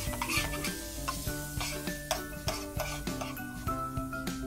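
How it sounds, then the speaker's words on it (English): Capers in a sizzling sauce are stirred in a pan for scallops wrapped in bacon, giving a steady close frying hiss with repeated soft scrapes and clinks of the utensil against the pan. "Stir gently."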